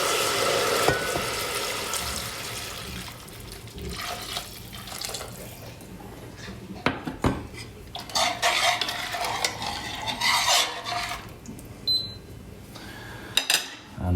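A full bottle of preheated wine is poured into a hot pan for braising Iberico pork cheeks, a rushing liquid pour and bubbling followed by metal utensil clinks and stirring scrapes, close and without talk.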